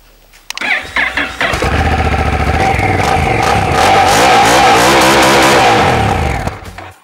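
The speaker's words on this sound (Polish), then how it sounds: "Sprawdźmy, jak pracuje NT1100." A Honda NT1100 motorcycle engine cranks and starts, then idles with a throaty, pulsing rumble that swells slightly before cutting off abruptly; loud and close, no voices.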